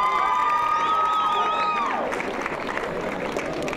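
An outdoor Renaissance Faire audience claps and cheers for a person being introduced, a lively burst of applause with whoops and children's shouts that fades after a couple of seconds, with music faintly behind.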